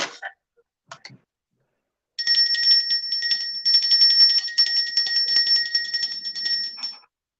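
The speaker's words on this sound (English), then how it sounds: "anybody that can't stand the sound of bells, mute it or cover your ears" Bell ringing sounds out continuously for about five seconds, a steady bright ringing with a rapid shimmering pulse, loud and close, preceded by a few brief faint noises and stopping abruptly.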